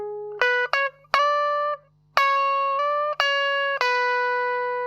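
A rockabilly finger-picked electric guitar lick played without string bends, a clean run of plucked single notes with short gaps between phrases, close and alone.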